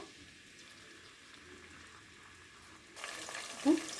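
Sliced onions for veg pulao hit a hot pan, and a sudden burst of sizzling breaks a near-silent stretch, staying loud and close to the end.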